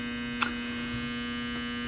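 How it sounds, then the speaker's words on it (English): A household clothes dryer runs somewhere in the room, giving a steady, even hum with a small click near the start and no voices over it. "Oh, and that's my dryer."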